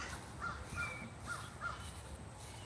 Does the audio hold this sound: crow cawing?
yes